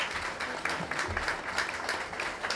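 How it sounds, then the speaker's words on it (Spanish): An audience at an anniversary gala for a magazine applauds steadily, a dense even patter of many hands clapping at moderate volume throughout. "un aplauso para ella"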